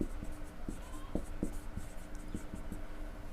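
Writing on a board during a trigonometry lesson gives soft, faint taps and scrapes at an irregular pace over a low background murmur.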